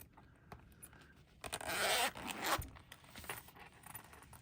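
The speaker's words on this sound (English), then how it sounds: "So I'm going to unzip this." A zipper on a crochet hook set case is pulled open in one close, bright zip lasting about a second, preceded and followed by quiet handling clicks and rustles.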